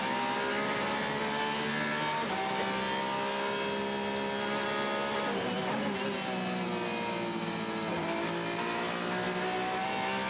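Race car engine at the Le Mans 24 Hours at night, a loud sustained high-pitched engine note with smooth throttle changes and slight pitch shifts, heard alone without commentary.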